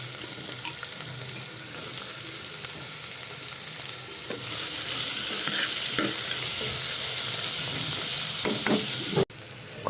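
Onions are tossed into a pan with already-fried green chillies, giving a close, continuous sizzle with scraping stir strokes that swells louder after a few seconds and cuts off abruptly near the end.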